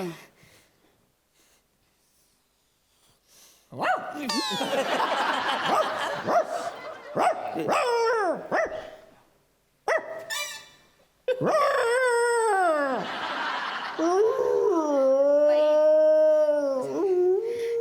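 On a Marathi comedy stage show, a performer's voice imitates a dog with wavering, drawn-out howls and yelping barks. After a quiet start, the loud, close bursts break off briefly and then end in a long, sustained wail.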